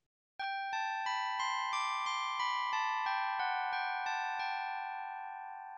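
Computer-generated Bach-like melodic run in a Baroque style: about fifteen evenly spaced bright synthesized notes climbing and falling in steady rhythm, each ringing into the next, clear and alone with no voices.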